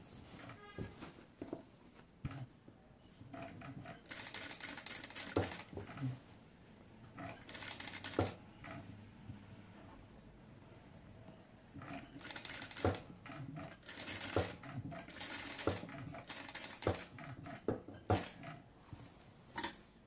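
A domestic sewing machine stitches a boat neck design on fabric in short rattling bursts separated by pauses, fairly quiet and close, with faint handling clatter between runs.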